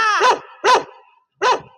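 A dog barks three times, loud and close, with short pauses between the barks and no other sound around them.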